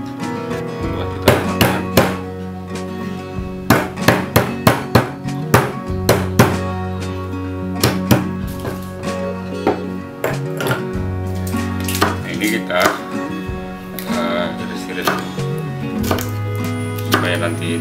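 A knife chops galangal on a cutting board in a kitchen: sharp, close thunks in quick runs and scattered single cuts, with a steady hum and a voice talking between strokes.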